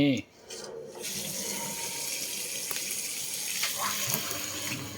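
A tap runs steadily for hand-washing clothes, a broad, even rush of water that starts after a short bump and continues close and loud throughout.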